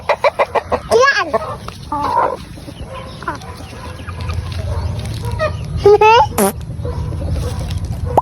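Chickens in a backyard coop cluck and squawk close by in uneven bursts, with a rooster-like call partway through, while people talk over them.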